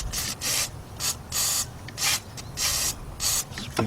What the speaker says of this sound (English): spray with some WD-40.